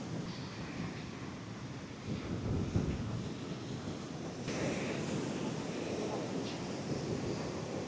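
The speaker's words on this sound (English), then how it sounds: "This is not the nicest beach I've ever been to" Waves roll onto a beach in the rural surrounds of Yogyakarta, Indonesia, a steady low roar of surf mixed with wind buffeting the microphone, with no clear speech.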